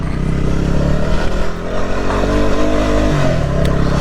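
A motorcycle engine drones loud and close, holding a steady low rumble as the bike is ridden slowly over packed snow on rocks, with slight shifts in pitch and no voices.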